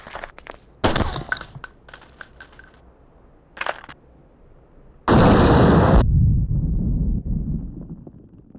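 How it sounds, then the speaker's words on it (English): Claymore mine detonations at a training range in Tom Clancy's Ghost Recon (2001, Xbox): sharp metallic clicks and bursts, then a loud roaring blast that rumbles and fades slowly. "When the claymore is ready, move to the safety of the blast bunker for detonation."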